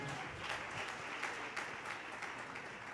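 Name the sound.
congregation clapping loudly at a church service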